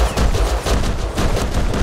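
An automatic pistol in the survival game Rust fires in rapid, continuous, loud and close bursts with hardly a pause, and nobody speaks.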